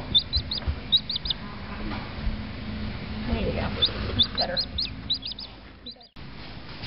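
Baby chicks newly hatched in an incubator give short, high peeping chirps in scattered clusters, with a person talking and other background sounds around them.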